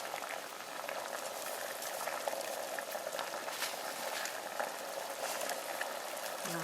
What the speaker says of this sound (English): Alright, now my water's boiling again.